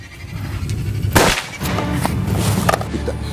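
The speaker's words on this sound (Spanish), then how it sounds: "¡Se oyó un disparo!" A single sharp gunshot cracks out in a Spanish-language action film, loud and close, followed by a noisy, rumbling background with a few fainter thuds.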